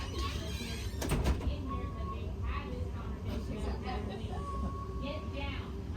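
A door sliding shut on an Old Town Trolley ghost tour vehicle in Savannah, a brief clunk near the start over a steady vehicle rumble, with voices talking throughout.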